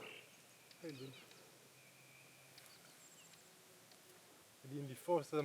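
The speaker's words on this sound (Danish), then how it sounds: "Det er en af de få steder, man kan høre fugle der." Faint bird calls chirp intermittently in the Swedish wilderness, with a few short bursts near the end, over quiet background ambience and low-level voices.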